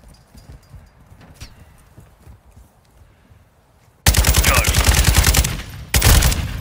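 Shotgun fire in the video game Call of Duty Modern Warfare 2 during a hardcore team deathmatch, with two loud, dense blasts of gunfire arriving after a quiet stretch of faint game ambience.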